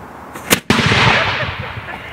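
A black powder cannon fires once at a live demonstration, a sharp loud blast that cuts out briefly, then rolls into a long, fading rumble.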